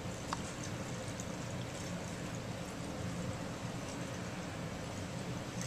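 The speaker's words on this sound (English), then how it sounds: "you'll fill it up" Tonic water pours steadily into a rubber glove held inside a container, a soft continuous trickling stream at close range with no talk.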